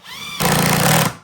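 A power driver sets screws while a sauna kit is being assembled, one close, loud buzzing burst of under a second that starts abruptly and cuts off.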